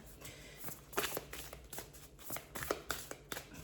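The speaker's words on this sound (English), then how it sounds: "I just sort of really want to give these a really good shuffle" A deck of tarot cards is shuffled by hand, giving quiet, irregular riffling and slapping bursts separated by short pauses, close and soft with no talking over them.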